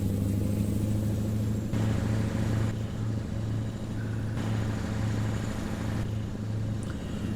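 A Mack Superliner truck hauling a heavy 70-ton transformer trailer in American Truck Simulator rumbles with a deep, steady diesel drone, loud and continuous, with faint changes in tone as it drives.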